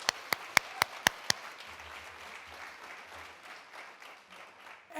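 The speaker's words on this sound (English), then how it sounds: "I'm in that with Linda, a round of applause." Audience at a scholarship fundraiser gala applauds: a handful of sharp, loud claps open, then a softer, diffuse patter of clapping carries on underneath.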